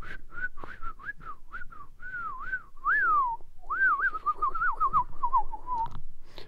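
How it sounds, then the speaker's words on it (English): A person whistles a wavering, sliding melody of short phrases and then longer swooping notes, loud and close, with no talk over it. "I can't whistle like that"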